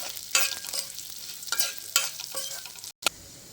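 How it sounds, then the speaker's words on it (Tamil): Lentils stirred and dry-roasted in a pan for a lentil chutney, giving repeated scraping strokes and a soft steady sizzle with a brief pause near the end, close and fairly quiet. "பருப்பு கொஞ்சம் நல்லா கொஞ்சம் பொன்னிறமாக வறுபட்டு வரணும்"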